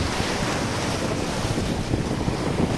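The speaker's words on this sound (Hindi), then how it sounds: "अभी लहरें थोड़ी बढ़ गई हैं" Sea waves surge and wash continuously along the coast between Karachi and Gwadar, loud and close, mixed with heavy wind buffeting the microphone and no talking.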